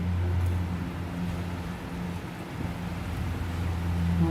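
A strong wind blows steadily through trees outdoors, a continuous loud rushing with broad noise that swells and eases slightly, with no voices.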